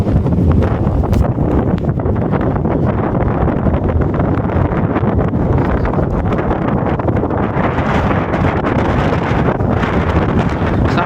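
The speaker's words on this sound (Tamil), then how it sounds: "செம்ம காத்து அடிக்குதுங்க இங்கே" Strong wind at Kaveripakkam Lake buffets the microphone continuously, a loud, rough, broadband roar with gusty surges and no voices.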